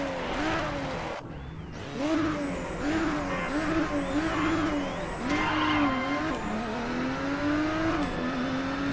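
Engine of a Nissan Skyline GT-R in a touge race video game with manual gears, revving and accelerating steadily with repeated rising pitch sweeps as gears change, close and continuous.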